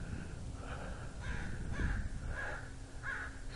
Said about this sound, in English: Mr. Crow up there yelling at us.